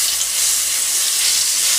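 Chicken pieces sizzle in hot oil in a pot, a loud, dense, continuous frying hiss with no pauses and no voices.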